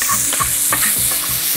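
Fatty ham sizzles loudly as it goes into a hot frying pan. The crackling fry is steady and close, broken by a few scraping stirs, with no voices.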